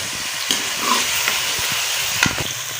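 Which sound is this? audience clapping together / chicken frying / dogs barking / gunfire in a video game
chicken frying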